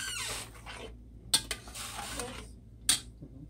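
Sea salt being stirred into spaghetti sauce with a spoon, giving soft scraping and two sharp clinks of metal against the pot, all fairly quiet and close.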